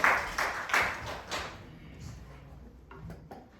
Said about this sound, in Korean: 감사의 박수로.